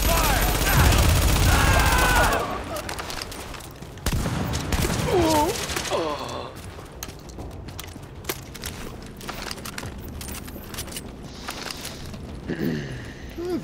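Dense gunfire and combat effects in the shooter game Tom Clancy's The Division, a loud barrage at first that settles into scattered shots and crackles, with game voices and brief tonal effects mixed in.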